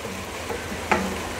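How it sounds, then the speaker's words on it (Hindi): Biryani masala and chicken for a Sindhi biryani fry in a pot with a soft, steady sizzle, and one brief stirring scrape of the spoon stands out near the end. "ये चिकन के साथ बिरयानी का मसाला अच्छे से भून गया"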